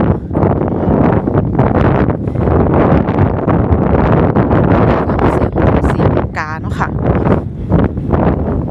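Cold, dry wind at a harbour on a three-degree morning buffets the microphone in a constant, loud rush, with someone talking throughout.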